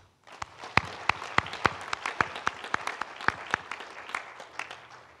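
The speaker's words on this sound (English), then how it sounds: "Why don't we give God a clap?" A congregation at a memorial service in a Nairobi church claps together, loud distinct hand claps landing in a quick, fairly regular rhythm over a soft bed of scattered applause.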